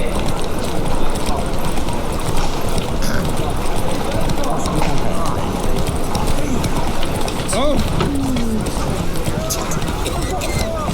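Geralt's horse Roach gallops in The Witcher 3, with a steady, continuous clatter of hooves running under game audio and music throughout, with a voice briefly heard.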